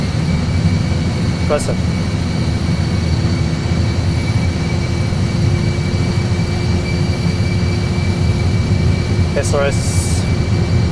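Airliner engines spool to takeoff thrust, making a loud, unbroken broadband roar heard from the cockpit, with pilots talking and two brief electronic tones over the noise.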